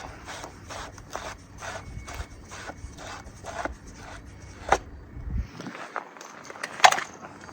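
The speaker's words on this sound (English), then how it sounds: "Take the new cartridge, the end I've unhooked, shove it in" An ink cartridge is swapped in a printer, with a run of soft, regular plastic clicks and rubbing followed by a few louder snaps and rustles, close and fairly quiet, with no talking.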